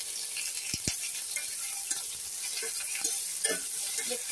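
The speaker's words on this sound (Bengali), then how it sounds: "দেখতেই পাচ্ছ আলুগুলোকে ভেজে নিচ্ছি।" Marinated potato pieces frying in a pan, a steady close sizzle with a couple of sharp knocks early on and soft scraping stirs throughout.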